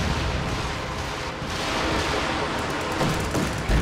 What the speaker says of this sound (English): More artillery going down.